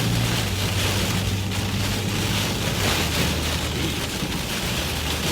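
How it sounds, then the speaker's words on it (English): Heavy rain and strong wind batter a car windshield during a tornado-warned storm in Arkansas, making a dense, steady, close roar that never lets up. "Heavy rain."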